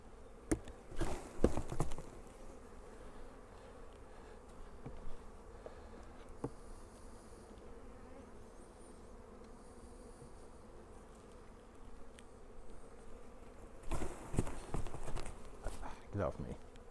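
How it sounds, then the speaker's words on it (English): Steady low buzzing of many honey nurse bees throughout, with a person talking over it near the start and end. "These are all nurse bees"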